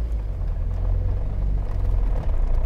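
A Moskvich 2141 car driving off-road, its gearbox and drivetrain giving a steady low rumbling drone that stays close and loud throughout, with no talking.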